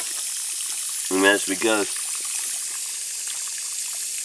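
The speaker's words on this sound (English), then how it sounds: "See how much water I have flowing in here." Water flows steadily into a garden setting, a constant rushing hiss heard throughout, with a person briefly speaking over it.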